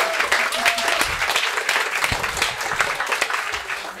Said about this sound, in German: mal Applaus für den Altenpfleger